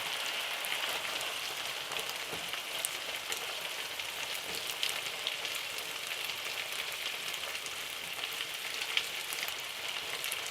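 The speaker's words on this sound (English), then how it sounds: "And I'm going to cook this down for about 5 minutes, and I'm going to stir every now and then." Baby Bella mushrooms frying in a pot, giving an even, continuous crackling sizzle like light rain, close and steady throughout with a few faint ticks.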